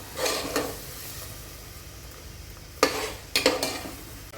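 Masala fries in a pan before mushrooms go in, a low soft sizzle under a few distinct spoon scrapes and clinks against the pan, close and fairly quiet.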